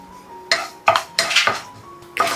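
Metal clatter and scraping of a pan or utensil while whole spices and a little fenugreek roast in coconut oil, several distinct knocks and scrapes in close succession, close by with no talking.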